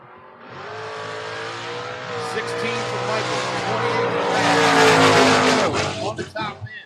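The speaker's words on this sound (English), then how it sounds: "Matt Richeza in the Mustang, 607, taking on Brandon Michaels" A Mustang and a Camaro drag race down the strip at a drag racing event, engines roaring and rising in pitch as they accelerate, building louder before cutting off sharply, with an announcer talking over them.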